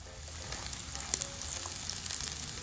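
Linguiça sausage frying in a pan alongside bacon, a continuous close hiss of sizzling fat with faint crackles and a few light pops, steady throughout with no talking.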